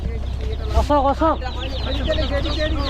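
Chickens being unloaded from a fishing boat at a small creek cluck in a few loud, close squawking bursts, followed by lighter continuous clucking, with people talking in the background.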